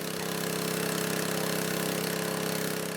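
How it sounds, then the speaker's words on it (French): A rickety motor pump runs steadily while drawing water from the Nzi river, giving a continuous loud droning rattle with an even pulse and no pauses. "moteur branlant"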